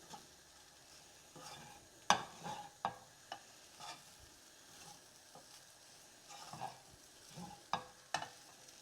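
A spoon scrapes and taps through chickpea rice with chaat masala in a hot pan, giving a soft sizzle broken by a series of irregular clacks and stirring scrapes, fairly quiet.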